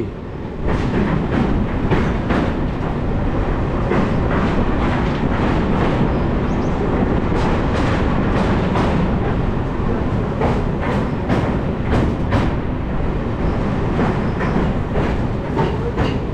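Onboard a Santragachi–Jhargram MEMU running fast, a loud continuous rumble carries rapid clickety-clack wheel beats over rail joints throughout.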